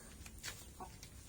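A brooding hen gives a few soft, faint clucks in quick succession on a backyard farm, quiet and close with no talk.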